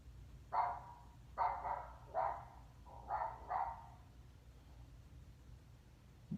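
A dog-bark sound effect played through an Amazon Echo smart speaker: five distinct barks, the last two close together, moderately loud over a faint background hiss, followed by quiet.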